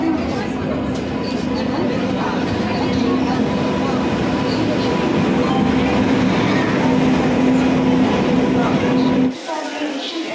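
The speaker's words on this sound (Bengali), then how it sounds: "নির্ধারিত সময় থেকে কিন্তু ট্রেন আগেই চলে এসছে প্ল্যাটফর্মে" Uttar Banga Express arriving at a New Jalpaiguri platform, a loud continuous rumble of rail cars with a steady humming tone, then an abrupt drop in the low rumble near the end while people talk nearby.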